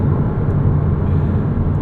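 Flat-six engine of a 2006 Porsche Cayman S running steadily, a loud low rumble heard from inside the car, alone with no talk.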